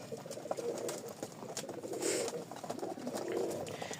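Pigeons in a loft, including a cream-coloured pair, giving soft low cooing in a few swelling phrases amid faint background rustle, quiet and fairly close.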